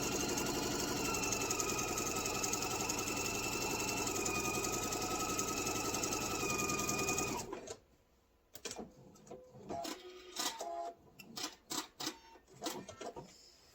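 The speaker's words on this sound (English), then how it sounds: "I'm just going to run this along my guide and stitch that fold down" A sewing machine stitching down a fold of apron fabric, whirring steadily and close for about seven seconds before stopping abruptly, followed by scattered clicks and handling noises.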